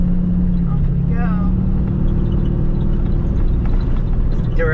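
A Duramax diesel pickup truck towing a shed pulls away uphill, its engine a steady, loud drone close by, with faint clatter and a few brief voices over it.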